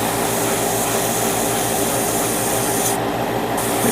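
Airbrush or spray can misting paint onto a part of a 1/100 MG Gundam Kyrios plastic model kit, a loud, continuous hiss close by that holds steady for several seconds with no talking.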